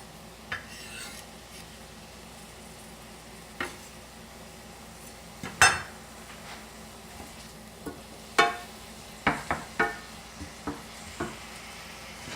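Vegetables for a simple homemade tomato sauce sizzle faintly in oil in a skillet, with scattered sharp scrapes and clacks as a wooden spoon stirs them, growing busier toward the end, no talk.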